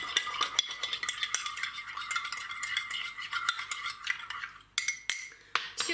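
Spoon stirring lightly salted cream in a bowl, a close run of quick scraping clinks and soft liquid swishes with a few sharper taps near the end; no talk.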